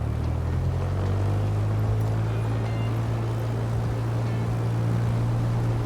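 Light aircraft engine in a flight simulator game running up to about 2,000 RPM on the ground with the parking brake set, a steady loud low drone holding constant throughout with no voices.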